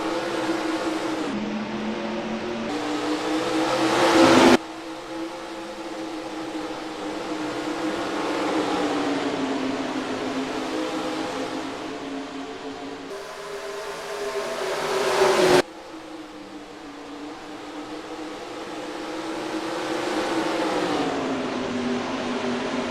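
Stock cars in the NASCAR Racing 2003 game accelerate on a restart at Iowa, a loud droning engine roar that rises and swells in pitch, cut by abrupt shifts and repeated surges as the pack pulls away.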